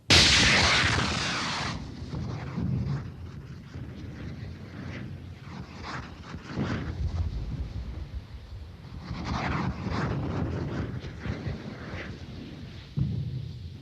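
A Giant Viper mine-clearing hose, 1.5 tons of explosive carried across a minefield by a cluster of eight rockets, during 1980s British Army training: a sharp roaring launch, then rumbling booms and rolling blasts that carry on.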